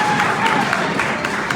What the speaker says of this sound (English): How about another round of applause for Andrea?